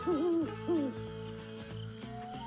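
Two soft owl hoots, each a gliding tone, rise over a steady musical backing, followed by a sustained held note with a louder accent at the end.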